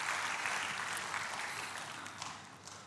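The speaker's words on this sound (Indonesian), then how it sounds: "Berikan tepuk tangan buat Tuhan Yesus." A church congregation applauds during a Last Supper sermon, a dense burst of clapping that holds for about three seconds and slowly fades.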